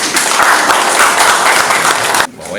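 An audience at a media and government gathering applauds Pak David with dense, loud, continuous clapping that breaks off sharply near the end.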